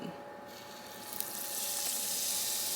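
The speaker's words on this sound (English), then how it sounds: "you see that sizzle?" Cornbread batter poured into a hot muffin pan just out of the oven, a faint hiss that swells into a steady sizzle, close and quiet.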